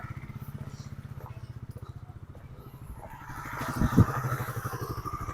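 A motorcycle engine idles nearby with a steady, rapid putter that swells louder toward the end, where a couple of sharp knocks cut through.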